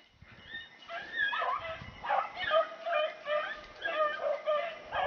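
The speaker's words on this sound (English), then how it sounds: "We got all the dogs on it right now." A pack of hunting dogs chasing a rabbit through fields gives off a steady run of yips and barks at a moderate distance, with a faint breathy voice underneath.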